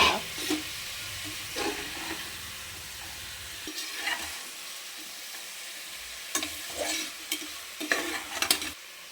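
Halved soya chunks fry in a pan for a quick vegetable biryani while a spoon stirs them, giving an intermittent sizzle broken by scraping strokes that come in short irregular bursts, close and moderately loud.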